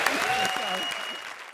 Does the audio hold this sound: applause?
yes